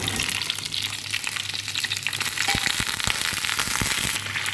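Green mango pieces tipped into hot oil tempered with cumin, nigella and mustard seeds, for a sweet-sour raw mango pickle, giving a loud, continuous sizzling hiss with scattered sharp crackles and pops.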